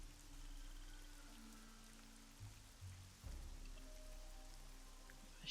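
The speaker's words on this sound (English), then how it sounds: "Rain, rain, rain." Steady rainfall in a Nancy Drew Legend of the Crystal Skull game scene, a soft continuous patter with low ambient game music underneath and a brief shift in the background tones midway.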